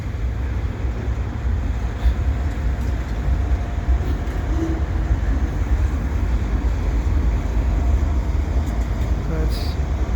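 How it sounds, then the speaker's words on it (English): An eastbound CP freight train pulls away through falling snow in Montreal, a steady, heavy low rumble that fills the whole stretch without letup. A voice talks faintly over it. "This is the eastbound CP train leaving."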